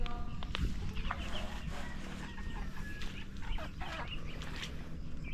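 Native chickens and hens cluck in a farmyard, several overlapping calls and short clucks rising over steady low background noise at moderate, fairly close range.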